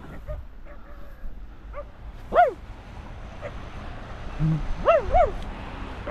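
Several large dogs barking and yipping at a distance near a river, scattered over outdoor background noise, with a couple of louder bark pairs standing out.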